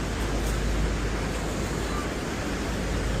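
Niagara Falls pours water in a steady, dense roar of rushing spray heard close by, continuous and unbroken throughout.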